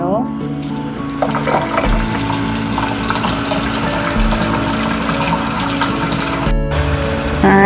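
Hot water runs steadily from a tap into a bucket while potting soil is mixed. A continuous loud gush runs under a talking voice throughout.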